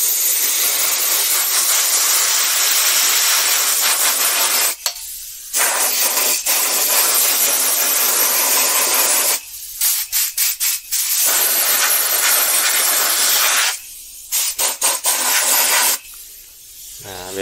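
An IZUMI OL 10-24 oil-less silent air compressor runs close by with a steady, airy hiss, cutting out for several brief pauses before resuming at the same level.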